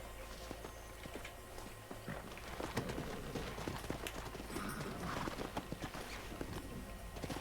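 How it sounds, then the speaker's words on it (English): Horses gallop in Red Dead Redemption during a horse-wrangling mission, a quiet, steady thudding clip-clop of hooves under faint ambient game sound, with no talk. "Let's see if we can't wrangle some horses."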